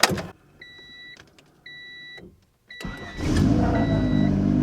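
A turbocharged Honda Civic with AC and power steering, just given swapped spark plug wires, gives three short electronic beeps, then its engine cranks and catches. It settles into a steady, close idle with a faint whine on top.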